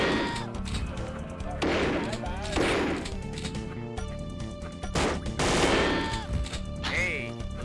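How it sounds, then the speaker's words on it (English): Video game NAM: bursts of gunfire crack out in sharp, repeated volleys, some rapid like automatic fire, loud and close, mixed with other game sounds. "Who the fuck is shooting at"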